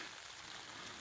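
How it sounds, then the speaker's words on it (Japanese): Heavy rain at a campsite on the Asagiri plateau near Mount Fuji makes a dense, steady hiss with no break and no talk. "めっちゃ雨、すんごい雨降ってる。"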